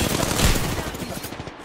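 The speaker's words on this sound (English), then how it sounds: "a fucking rampart with their minigun. Is that what I just heard?" Rampart's minigun fires in Apex Legends as a rapid, rattling burst of gunfire, loud and close at first and then continuing in quick repeated shots.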